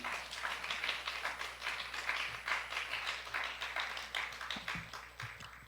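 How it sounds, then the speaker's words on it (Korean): An audience claps steadily to welcome a pastor to a seminary chapel service, with sustained applause of many hands at moderate distance and no voices. "나오실 때 큰 박수로 우리 환영하도록 하겠습니다."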